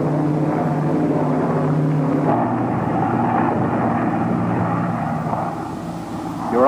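A propeller airplane descends on its glide path toward a landing in stormy weather, its engine drone steady and loud throughout with no talking over it.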